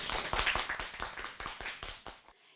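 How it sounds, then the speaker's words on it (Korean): Elementary school students clapping in a classroom to celebrate a local ordinance they helped draft: a burst of quick, close hand claps at moderate volume that stops abruptly, leaving near silence. "박수 한번 칠까요"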